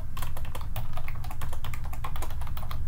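Rapid, steady clatter of keystrokes on a computer keyboard while C++ code is typed in the NetBeans editor, close and continuous with no talking.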